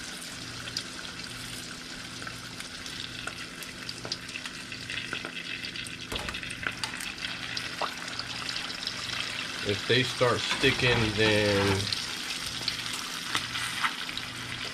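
Philly cheesesteak spring rolls fry in hot oil with a steady bubbling sizzle and occasional stirring clatter, while a person talks over it.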